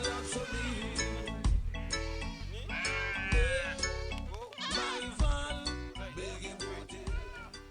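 Goats bleating in a village herd in Casamance, Senegal, with repeated overlapping wavering calls from several animals, close and loud, continuing without pause.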